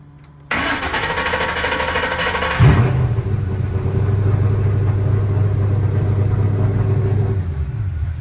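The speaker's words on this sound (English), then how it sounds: "So now we're gonna start the car." A car fitted with an AEM Infinity ECU and FRPP control pack harness cranks briefly, fires up and settles into a steady, loud idle rumble up close.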